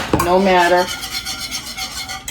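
A whisk scrapes and swishes through thickening gravy for KFC-style mashed potatoes, a steady rubbing rasp in a pan that starts under a voice and continues on its own.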